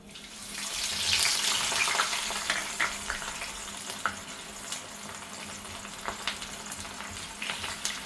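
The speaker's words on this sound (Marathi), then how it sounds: "आता आपण कांदा तळून घेणार आहोत" Oil sizzles and crackles steadily as onions fry for chiwda, with small pops and occasional stirring clicks at moderate volume.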